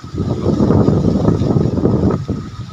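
Strong wind gusting through a durian orchard, a loud, steady roar buffeting the microphone for the whole stretch, with no talk.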